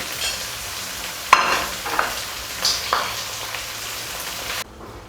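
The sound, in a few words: finely chopped tomatoes frying in a pan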